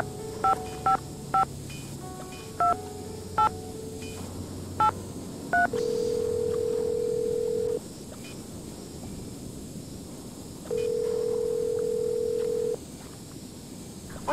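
In the Nancy Drew video game Treasure in the Royal Tower, a telephone is dialed: a run of short keypad tones, then two long steady tones separated by a pause, all faint over a quiet hiss.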